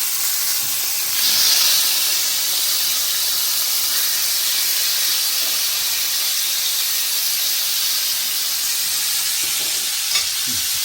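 A steak sears in a hot pan, a loud continuous hiss and sizzle running steadily throughout with a brief surge early on, no voices.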